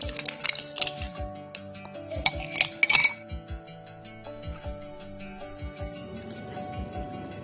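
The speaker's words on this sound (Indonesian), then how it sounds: "Di sini saya akan pindahkan es batu ini ke dalam gelas yang kosong." Ice cubes clink and rattle into an empty glass in a series of sharp, close knocks, with a brief louder clatter in the middle, then fading taps and no talking.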